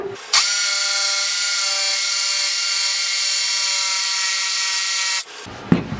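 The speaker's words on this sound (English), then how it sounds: "I'm just gonna take that out with a jigsaw" A jigsaw cuts wood for a homemade dust collector: one loud, steady, high-pitched whine runs for about five seconds alone, then stops abruptly.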